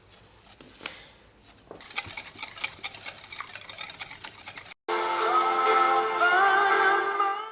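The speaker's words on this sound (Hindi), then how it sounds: "अब विस्क की हेल्प से इन सब चीज़ों को अच्छी तरह से मिक्स कर लेते हैं कि चीनी घुल जाए" A whisk beats buttermilk and sugar in a bowl with a fast, steady run of ticking metal-on-bowl strokes, starting softly and then growing louder, with a brighter, continuous clatter after a short break.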